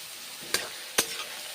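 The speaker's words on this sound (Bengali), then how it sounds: "আমি এখন ঝিঙেগুলোকে ভেজে নিচ্ছি" Ridge gourd is fried with onion in a pan in a soft, constant sizzle, with two short scraping stirs of the spatula standing out.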